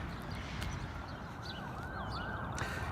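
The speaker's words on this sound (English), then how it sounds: "You gotta love the sound of sirens in the city" Emergency sirens wail on a city street along 46th Street in the early morning, several overlapping rising and falling tones at a moderate distance above a constant roar of traffic.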